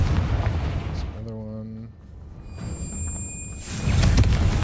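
Confringo fire-blast spell going off in Hogwarts Legacy, a burst of explosive noise near the end, preceded by tonal game effects and talking over the scene.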